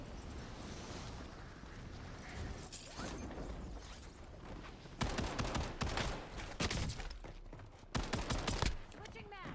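Bursts of automatic gunfire from a Call of Duty Warzone match, dense rapid volleys growing louder midway with mechanical clatter, under a player talking.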